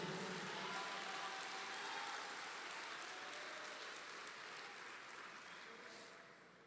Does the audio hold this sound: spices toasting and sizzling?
no